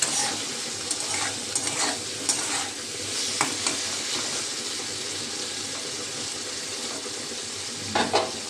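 Vegetables with salt and turmeric are stirred in a sizzling pan, with repeated scraping, clattering strokes over a constant frying hiss and no talking.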